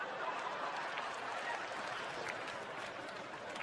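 Stand-up comedy audience clapping steadily throughout a live show, a dense, continuous wash of applause from a large crowd with faint scattered chuckles mixed in.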